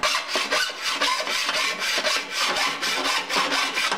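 Hand file stroking burrs off metal edges, a rough rasping scrape repeated in a steady back-and-forth rhythm, close and loud, with about a dozen strokes and no voices.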